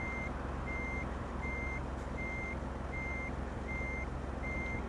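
Truck reversing alarm in Euro Truck Simulator 2 beeps steadily at an even rhythm, about seven evenly spaced tones, over a constant low engine rumble with no talking.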